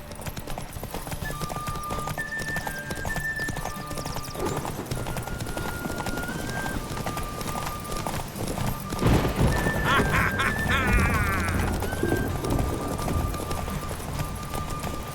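The horse Roach trotting in The Witcher 3 video game, an even rhythmic clip-clop of hooves throughout, set against busy town ambience with animal calls, a horse whinny and background voices chattering.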